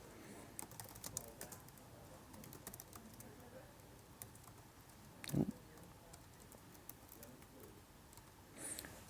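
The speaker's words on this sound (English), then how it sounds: "Have you noticed I'm typing part of the word and then I'm pressing tab" Quiet, scattered keystrokes from a computer keyboard during network switch configuration at a command line, with short bursts of typing, a louder clack midway and another near the end.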